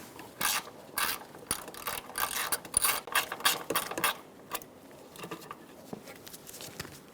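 A socket ratchet with a 10mm socket clicks in rapid bursts while undoing a bolt on a 2002-2006 Honda CR-V during windshield washer reservoir removal, close and fairly quiet, with no talking.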